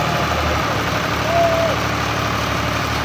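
A 2015 Alghazi tractor diesel engine runs steadily nearby, giving a loud, continuous low rumble with faint higher tones layered over it and no pauses.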